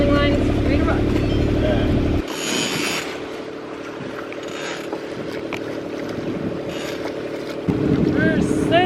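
A sailboat moving through stormy wind, with a steady droning hum and rushing wind buffeting the microphone, a brief break in the drone midway, and people talking and calling out over it.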